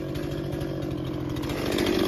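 A chainsaw cuts through a thick cedar log, running steadily and loudly at close range, its engine drone constant and growing slightly louder toward the end, with no talking.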